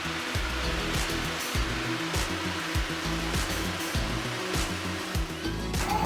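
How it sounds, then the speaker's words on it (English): A heat gun blows a steady, even rush of hot air while two layers of vinyl flooring and adhesive are stripped in a 1960s house, with faint repeated scraping and clicks under the constant drone. "so Obie thought to try a heat gun, and that worked awesome"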